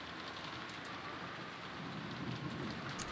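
Steady heavy rain in the visual novel Umineko When They Cry, a dense continuous hiss of falling water with wind, even and unbroken throughout and no voices.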